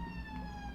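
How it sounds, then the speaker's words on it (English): An emergency vehicle siren, ambulance or police, passing through a city centre, a steady wailing tone with harmonics heard at moderate distance over faint road traffic. "Always like things going past, ambulances and police."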